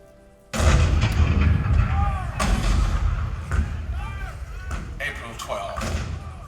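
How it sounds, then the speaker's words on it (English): Cannon fire booms out in a Walt Disney World Magic Kingdom Hall of Presidents show, a loud sudden blast followed by a few more heavy thuds and echoing rumbles, with narration voices over it. "The cannon spoke for war, bitter, violent, and devastating."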